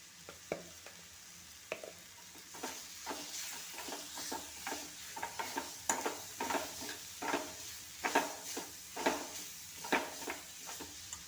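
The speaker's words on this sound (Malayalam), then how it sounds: "എല്ലാം കൂടെ നല്ലപോലെ ഇളക്കി യോജിപ്പിക്കാം" A spoon scrapes around a pan, stirring spices such as ground pepper into a curry in a steady rhythm of close, repeated strokes over a faint sizzle. No voices.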